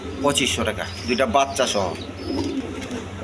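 Pigeons of a quality dhamachi breed, kept at a sale with their chicks, give soft throaty coos close by, mixed with someone talking over them.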